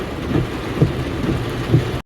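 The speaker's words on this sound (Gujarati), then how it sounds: "વરસાદ ચાલુ જ છે હજી ધીમો ધીમો." Light, steady rain falls outdoors as a soft, even wash of noise, with a few dull low thuds recurring through it.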